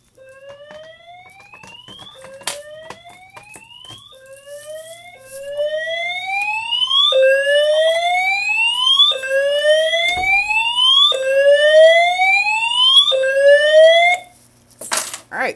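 Simplex 4010 fire alarm multi-tone horns, set off by a 4099-9006 dual action pull station, blare in repeated rising whoops, loud and close, continuing for over ten seconds before cutting off abruptly.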